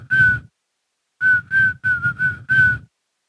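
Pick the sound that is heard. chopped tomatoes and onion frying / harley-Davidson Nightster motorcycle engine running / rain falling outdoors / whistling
whistling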